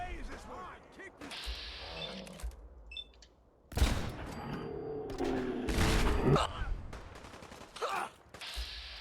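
Raiders and Minutemen trading gunfire in Fallout 4, bursts of rifle shots and rattling volleys at mid distance, a speaker talking over part of it.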